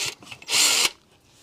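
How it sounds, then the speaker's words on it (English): A power drill briefly widens a hole in a prop housing, a single short whining burst of about a third of a second, close and fairly loud, surrounded by faint handling noise. "we're just going to take a drill and take one of these holes and make it a little wider"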